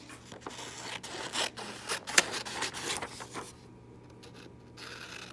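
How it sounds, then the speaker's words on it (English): Scissors snip a paper triangle out of a printed sheet, close crisp cuts and paper rustles in quick bursts, then a quieter stretch near the end, no talking. "take this document and cut the triangle out like this"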